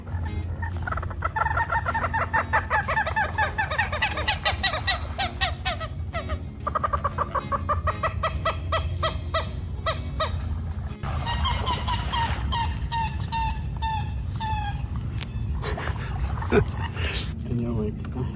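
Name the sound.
unseen wild birds calling at sunset in Florida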